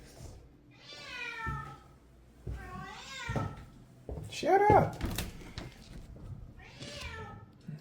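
A cat meows repeatedly in a water-damaged building with a second-floor leak, long drawn-out cries with pauses between them, while a person speaks briefly and something knocks in the middle.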